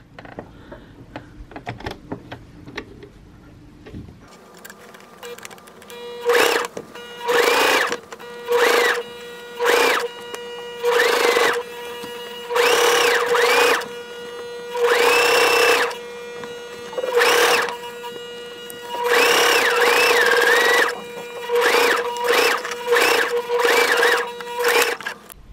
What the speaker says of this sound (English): I'll be stitching all the way around that area.